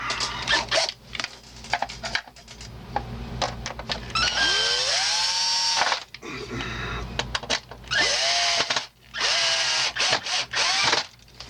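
A power screwdriver drives screws during repair work on a Dual CS-515 turntable, with several bursts of whirring motor rising and falling in pitch, separated by brief pauses and handling noises.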